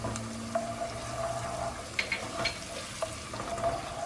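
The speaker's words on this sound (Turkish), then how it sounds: "Bunlar şimdi bir ee, bir dakika kadar birlikte bir kavuracağım" Onion, garlic, tomato sauce and a little pepper paste sauté quietly in a pan, giving a soft continuous sizzle. Faint stirring clinks and scrapes of a utensil come through from close by.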